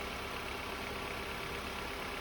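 The engine of a 2006 Honda Accord with a history of overheating idles after being jump-started, a steady, even hum that holds at constant level with no voices.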